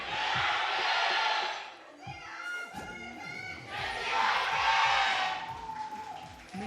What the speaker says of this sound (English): everybody's cheering for their respective teams, but also cheers afterwards